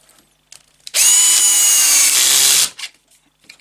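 A power drill drives a screw into a wooden child's art easel in one steady, loud burst of about two seconds, with quiet handling noises before and after.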